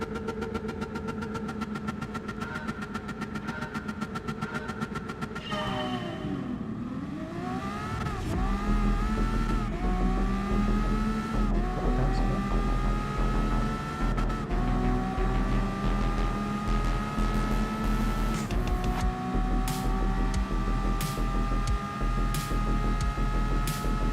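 A race car in the GT Sport video game screams through its revs, with rising engine tones and a clear upshift midway that drops the pitch before it climbs again, loud and alone without talk.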